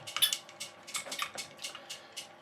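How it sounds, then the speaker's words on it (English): Coconut cream is stirred in a glass with a spoon, giving a quick run of light, close clinks and soft liquid swishes against the glass. "Giving it a little stir."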